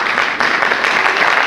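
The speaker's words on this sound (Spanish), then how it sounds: "Dele ese aplauso al Señor," A church congregation claps for the Lord during a Spanish-language worship service, a brief burst of steady, fairly loud clapping.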